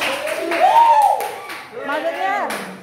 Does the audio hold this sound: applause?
yes